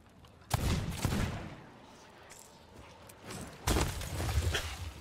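Gunfire in the pirate video game Sea of Thieves, heard as two loud bursts a few seconds apart amid game noise, with brief talk.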